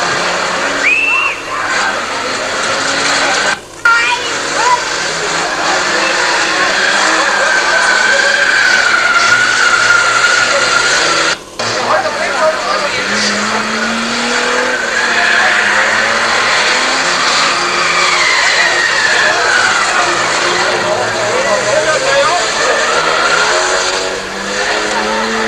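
Race cars roar past in a championship heat of an unmodified class, engine noise swelling and fading continuously over crowd and outdoor ambience, fairly loud throughout.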